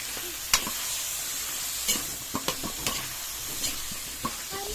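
Sautéed bottle gourd with sardines sizzles steadily in a pan while a utensil stirs it, giving several soft scraping knocks over the constant frying hiss.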